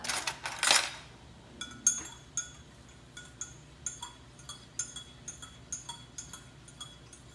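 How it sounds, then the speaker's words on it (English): A metal spoon stirs vanilla extract for tiramisu, producing a string of light, bright clinks and taps against the container, evenly spaced and close up after one louder scrape at the start, with no talking. "Get a spoon so I can stir that"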